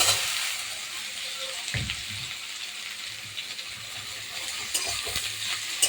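Washed ridge gourd hits hot mustard oil and fries with a steady close crackling sizzle, joined by the scrape and clatter of stirring, with no voices.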